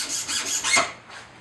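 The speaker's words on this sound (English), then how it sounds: "you got your file, which we use just to file down the tone board" A metal file rasping across the tone board insert of a wooden duck call, several close, scratchy back-and-forth strokes over about a second and a half, tapering off at the end.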